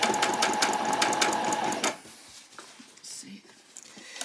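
Sewing machine running fast for about two seconds, sewing a long gathering stitch through skirt fabric, then stopping, followed by soft handling noises and a quiet whispering voice.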